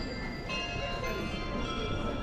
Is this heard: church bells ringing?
yes